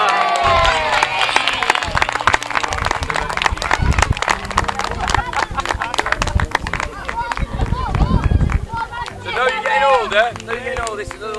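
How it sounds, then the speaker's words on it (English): A group on a youth sports team camping trip claps and cheers loudly for a tournament top-scorer award, with lively overlapping voices and talk mixed into the rapid, continuous applause. "Give Harry a clap."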